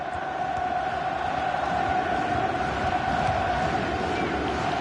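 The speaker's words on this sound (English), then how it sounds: "some of them probably roaring to defend this 1-0 lead, and some roaring for the attackers to add to it" A stadium crowd roars in a PS4 football video game during an Atletico Madrid match. The roar is a constant, dense wash of noise that stays loud and even throughout.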